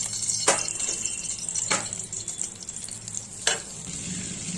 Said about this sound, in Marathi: इथे मी तेल आणि बटर हे दोन्ही मिक्स करून घेतले